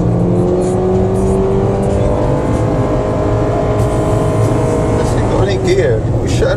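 A car is driven hard on a race track, its engine roaring loud and close with rising and falling revs as it works through corners, while people talk over the noise.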